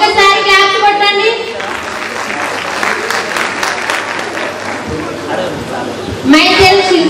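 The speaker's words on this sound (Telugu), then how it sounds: "ఒక్కసారి క్లాప్స్ కొట్టండి." Applause from a meeting audience, a sustained wash of many hands clapping through the middle of the clip, with a voice speaking over the opening and again at the close.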